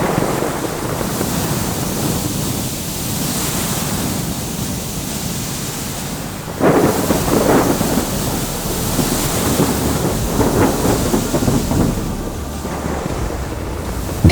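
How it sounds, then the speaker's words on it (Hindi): A fierce storm at sea rages as a ship begins to sink, with a steady roar of wind and crashing waves that surges louder partway through, no voices. "धीरे धीरे तूफान और तेज होता जाता है और जहाज डूबने लगता है।"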